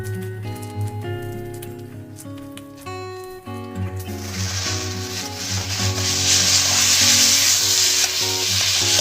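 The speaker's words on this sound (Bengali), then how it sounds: "এবারে খাসির মেটেটা দিয়ে দিচ্ছি এর মধ্যে।" Goat liver goes into a hot pan and starts frying, a bright hissing sizzle that rises and grows after a few seconds of quieter clatter and tonal background sound.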